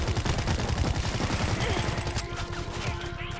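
Dense automatic gunfire in the zombie shooter World War Z: Aftermath, loud rapid shots hammering continuously before thinning out, with voices faintly mixed in.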